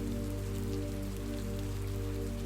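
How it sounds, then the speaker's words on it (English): Heavy rain pours outside a cabin in the woods, a dense, unbroken hiss of drops drumming on surfaces, steady and even throughout with no voices. "The rain is now falling heavy"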